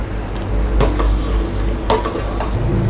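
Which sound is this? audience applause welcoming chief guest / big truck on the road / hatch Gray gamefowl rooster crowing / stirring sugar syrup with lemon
stirring sugar syrup with lemon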